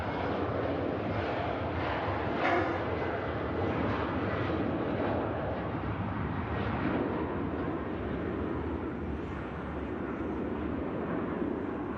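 A TAP Air Portugal airliner rolling for takeoff at Manchester Airport toward Lisbon, a steady broad jet roar holding at one level for the whole stretch, with no voices heard.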